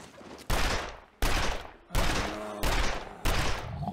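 Gunfire in The Long Dark as a bear is shot: five loud, separate shots, each with a sharp crack and a long fading tail, spaced roughly evenly about two-thirds of a second apart.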